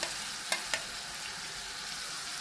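Chopped onion sizzles steadily in a hot pan, with two sharp scrapes of a spoon or spatula stirring it near the start, then an even hiss with no talk.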